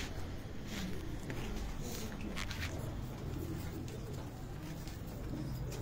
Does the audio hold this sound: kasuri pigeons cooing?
yes